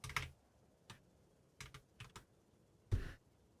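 Several separate keystrokes on a computer keyboard, close and fairly quiet, tapped in short clusters with pauses between them over near silence.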